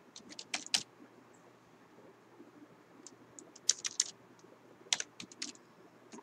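Typing on a computer keyboard, close and clear, coming in short irregular bursts of quick key clicks with quiet pauses between them and no voices.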